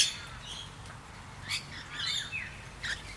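Wild birds chirp at Dr Romesh's bird sanctuary, with a few short, high tweets scattered over a faint, steady background. No one speaks.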